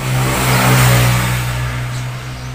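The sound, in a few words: Suzuki Satria Hiu motorcycle engine running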